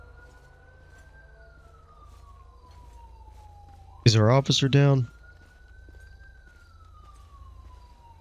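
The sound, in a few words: ambulance siren responding code 3 in video game LSPDFR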